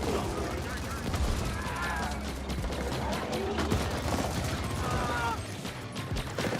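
Dense gunfire from a shooter game set in The Ascent, with rapid overlapping shots and bursts running continuously under a busy mix, with speech-like game chatter mixed in; no distinct grenade blast stands out.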